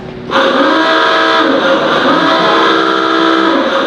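A theatre organ sounds a loud, sustained, buzzing tone that imitates a car horn and engine, starting abruptly and holding steady.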